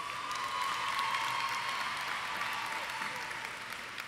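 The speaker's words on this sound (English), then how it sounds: "Let's give them one more round of applause" Audience applause at a high school graduation ceremony, a broad, even wash of many hands clapping, somewhat distant, slowly fading toward the end.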